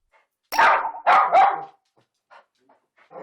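An excited dog barks at a visiting trainer indoors: three loud, close barks in quick succession, then a few fainter yips and whimpers, with no talk over them.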